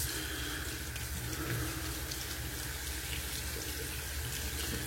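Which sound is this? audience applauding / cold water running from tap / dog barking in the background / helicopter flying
cold water running from tap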